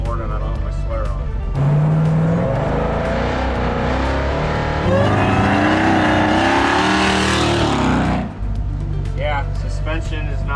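A supercharged 1969 Dodge Charger with a Hellcat engine swap, driven without a windshield, rumbles and revs up through rising engine pitch with wind rush, someone talking over the loud drive.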